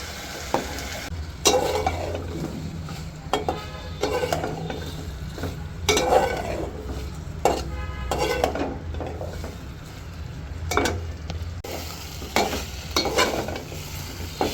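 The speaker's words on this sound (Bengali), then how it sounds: "আমার তরকারিগুলো কষানো হয়ে গেছে।" Curry with taro and small hilsa being sautéed in a pan, loud sizzling under frequent clattering stirs and scrapes of a metal spoon against the pot, close and busy throughout, no one talking.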